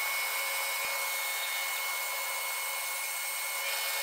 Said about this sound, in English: I made some knobs on the bandsaw